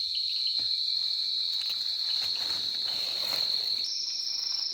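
Insects, grasshoppers or crickets, chirp steadily at night in a continuous high-pitched drone, with a faint soft patter underneath and no voices.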